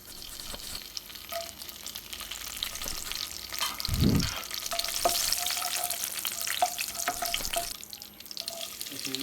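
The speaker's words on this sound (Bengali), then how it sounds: "আমি একটু তেল দিয়ে নিচ্ছি, একটু দারচিনি, লং, এলাচি, তেজপাতা।" Cinnamon, cloves, cardamom and bay leaf frying in hot oil, a continuous crackling sizzle with intermittent stirring and scraping, close up and steady throughout, without any talk.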